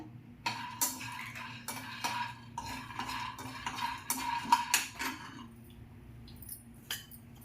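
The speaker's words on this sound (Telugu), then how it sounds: "ఈ పల్లీలు ఇప్పుడు వేపుకుందాం, ఒకటి తర్వాత ఒకటి వేపుకుందాం." Peanuts roasting in a kadai for millet laddu, stirred with a metal spoon that scrapes and clinks in quick irregular strokes, fairly close and steady before easing off near the end, with no talk.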